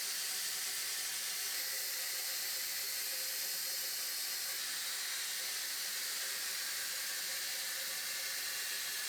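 Cavity wax sprays onto the rocker panels of an old Yukon in a continuous close, airy hiss that holds steady for about nine seconds with only slight shifts in tone.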